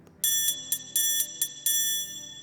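A bright metallic bell tone, the Bell 1 sample from a Drumulator Digirock drum machine chip, strikes several times in an uneven rhythm, each hit ringing on with sustained shimmering overtones.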